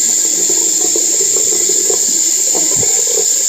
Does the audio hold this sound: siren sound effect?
no